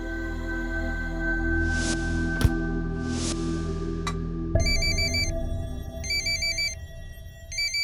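A phone ringing indoors: a repeating electronic ringtone in regular bursts with a steady rhythmic pattern, loud and close, following a few sharp clicks and a low steady hum, with no talking.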